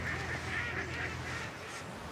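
Ducks honk in a short run of nasal calls, fairly faint and partly buried under a steady broadband wash of background noise.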